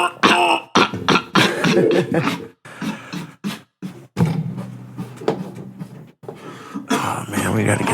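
A man coughs and clears his throat repeatedly after smoking dabs, harsh hacking bursts close to the microphone, mixed with bits of talk.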